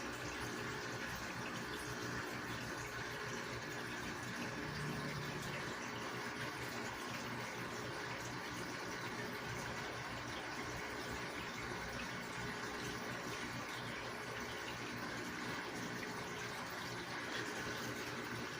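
Tap water runs steadily from a faucet into a betta fish tank, a quiet, continuous splashing flow with no voices.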